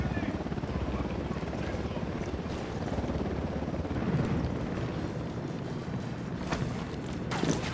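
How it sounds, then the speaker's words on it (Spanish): Helicopter in the Ghost Recon Wildlands video game, a constant rotor drone under game noise and background sound, with some speech faintly mixed in. "Al suelo, un helicóptero."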